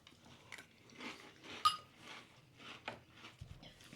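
Cocoa cereal being crunched and chewed in the mouth, a series of soft, close crunching bites spread through the moment with one sharper crack midway, no voices present.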